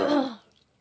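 A single short throaty cough or throat clearing, close by, fading quickly into quiet.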